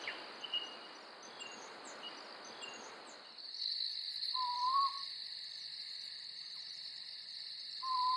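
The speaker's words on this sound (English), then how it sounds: "The southern boobook is the smallest and most common owl in Australia." A southern boobook owl, Australia's smallest and most common owl, gives clear hoots twice at night, spaced a few seconds apart, over a steady background of chirping insects.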